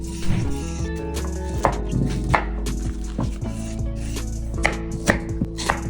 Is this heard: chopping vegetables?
yes